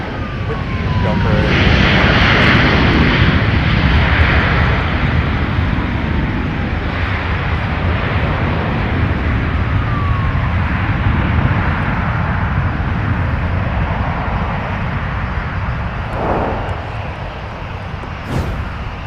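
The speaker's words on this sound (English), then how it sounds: "Let's take another look at our Delta arrival that came in from Cancun, Mexico, flight 1827, touching down with the 737." Delta Boeing 737 arriving from Cancun touches down on the runway at Minneapolis–St. Paul airport, a steady loud roar of jet engines and rushing air holding for the whole stretch, with a faint tower radio voice mixed in.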